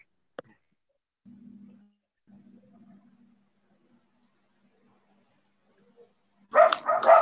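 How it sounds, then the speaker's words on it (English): Dogs make faint, low whimpering sounds in two short stretches, then a loud, sharp burst of barking comes near the end. Quiet gaps separate the sounds. "Those are the dogs that are part of the song."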